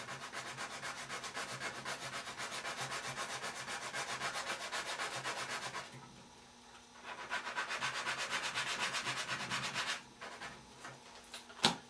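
A piece of a model torso is sanded by hand near its back plate, with fast, even rubbing strokes close by, pausing briefly midway before resuming, then a sharp knock at the end.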